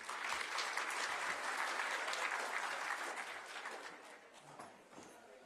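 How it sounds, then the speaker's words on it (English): A presentation audience claps in a dense, sustained round of applause. It holds steady, then thins and fades toward the end. "Come, you can give him another clap then."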